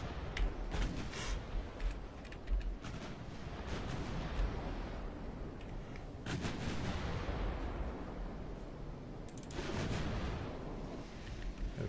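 Battleship naval guns fire in Ultimate Admiral Dreadnoughts, repeated heavy booming salvos at irregular intervals with rumbling echoes, some sharper blasts clustered around the start, middle and end, with no talking.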